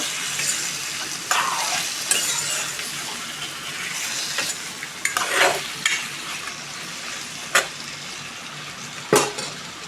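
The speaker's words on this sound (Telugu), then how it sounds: "బాగా కలబెట్టుకోవాలా ఉడికేంత వరకు" A dry red chilli chutney mixture stirred in a pan as it cooks, with a steady low sizzle under scraping spoon strokes and a few sharper clinks of utensil against the pan, nearby and with no talking.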